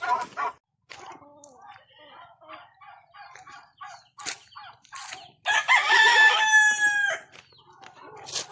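A large breeder rooster perched up in a sugar-apple tree crows once, loud and close, with a long drawn-out call following scattered bird and background noises, with no talk heard.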